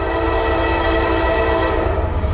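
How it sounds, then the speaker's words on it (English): A BNSF ET44C4 locomotive leading a westbound Norfolk Southern 29G train sounds its horn: a loud, steady, close chord held without a break, with rumbling rail noise underneath. "Give me a horn."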